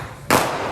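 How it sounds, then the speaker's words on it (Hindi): A firework bursts in a street at night: a sudden sharp crack followed by a broad hissing, crackling spray that lingers and slowly fades, close and fairly loud. "काफ़ी ज़्यादा इन्होंने की है आतिशबाजी।"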